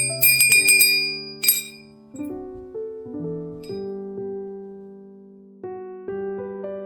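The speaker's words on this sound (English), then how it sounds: "solid brass bell shaped like Victorian woman in crinoline dress" A solid brass Victorian lady table bell shaped as a woman in a crinoline dress, rung several times, giving bright metallic strikes followed by long, clear, ringing tones that slowly fade, close and alone.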